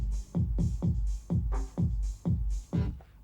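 A DJ rhythm track plays back from CD: a steady, punchy beat of deep kick-like thumps roughly every quarter second, each with a bright crisp top, looping evenly and alone without voices.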